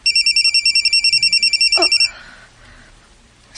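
A telephone ringtone in a radio drama trills in a quick repeating electronic pattern for about two seconds, loud and close, then cuts off to quiet room tone.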